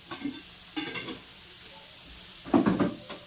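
Onion, curry leaves and peanuts roasting in a home kitchen pan for poha, heard as a few scattered stirring scrapes and light sizzling, with a louder clatter of utensil against the pan toward the end.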